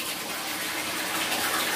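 Water gushes from a tap into a bathtub as it fills, a loud, steady rushing hiss that continues without break for the whole short stretch, with no voices over it.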